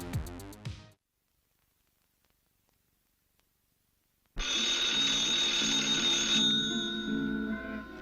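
An electronic phone rings in a horror movie, a brief trilling burst, then several seconds of silence before a loud, sustained electronic ring takes over and holds to the end.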